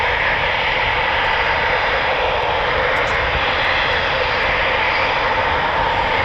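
A Eurofighter Typhoon FGR4 jet at RAF Coningsby roars loudly and continuously, a broad sustained engine rumble with no talk over it.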